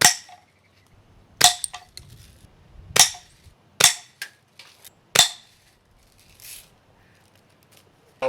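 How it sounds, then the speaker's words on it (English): A Daisy Red Ryder BB gun fitted with an aftermarket spring kit fires at a roofing shingle about ten feet away: five sharp, loud snapping shots spaced roughly a second apart, with faint handling noises between them. "I'll give it 5 shots to try to get it through a shingle."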